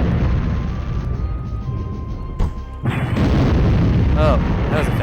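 Gunfire and explosions in the video game Storm Winds: a few sharp booms and bursts over steady game noise, with a sudden heavy blast midway, while a person talks.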